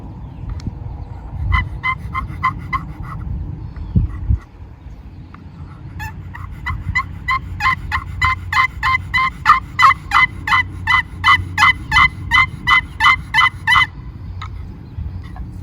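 Wild turkey gobble imitated with a hand-held wooden box call, a small box with a hole drilled through it: rapid rattling bursts of calls, first a short series, then a long, loud, steady run of repeated yelps close up.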